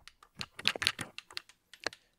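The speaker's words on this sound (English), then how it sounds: "they do make a clicking sound when you press them." Shallow clicks of the keys on an X-keys XK-16 programmable USB keypad, about a dozen quick, light taps in uneven succession, close and quiet, with no talking.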